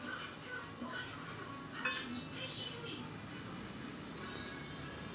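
Cutlery clinks against a plate while sausage is cut into small pieces during a home snack, a few light scattered clinks with one sharper knock over quiet room sound.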